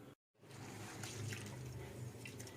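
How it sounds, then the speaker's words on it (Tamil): Water pours over rice, urad dal and pearl millet for rinsing: a steady, close splash and rush of liquid that starts after a brief silent gap. "இது எல்லாம் ஒன்றா போட்டு தண்ணி ஊற்றி நல்லா அலசிட்டு ஒரு 5 மணி நேரம் ஊற வைக்கலாம்"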